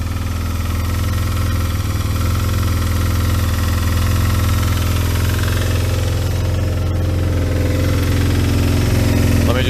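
A Kawasaki ZX12R motorcycle engine idles steadily and loudly up close, a deep continuous rumble with a slight uneven throb throughout.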